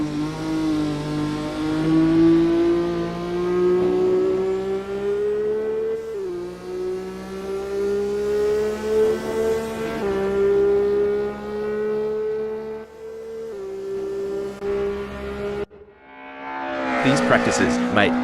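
An Opel Omega Evo 500 DTM Enduro race car laps in Assetto Corsa, its engine note droning loud and steady with rising pitch through gears, a brief drop and a tire squeal near the end.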